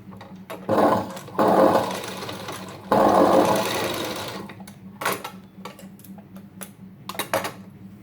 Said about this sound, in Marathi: ह्याच्यावर आपल्याला आता असं चून बनवून इथं शिलाई मारायची